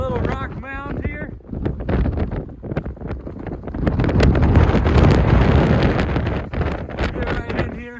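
Strong wind roars across a high mountain pass at Arapaho Pass, buffeting the microphone in loud, swelling gusts throughout, with a voice briefly audible near the start.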